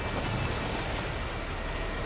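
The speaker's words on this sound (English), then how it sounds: "Despite the rain, it's still looking quite nice for Skellige Seas." Steady rain and rough sea at Skellige in the video game The Witcher 3, a dense, constant broadband wash of falling rain and surf with no pauses, fairly loud and even throughout.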